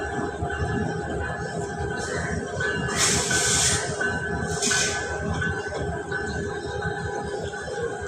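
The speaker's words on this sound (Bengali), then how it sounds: "এ তো আসতে চলতেছে ট্রেন" A train rolls slowly through Kamalapur railway station, with a continuous low rumble and two short bursts of bright hiss, fairly close and without talk.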